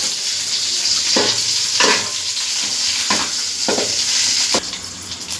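Mustard seeds and two sprigs of curry leaves crackle and sizzle in hot oil for a mutton curry tempering, a steady close hiss broken by several sharp stirring scrapes, with no talk.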